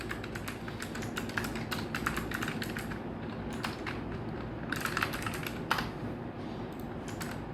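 Fast typing on a computer keyboard, dense bursts of close clicking keystrokes with brief pauses between runs, steady and alone without speech.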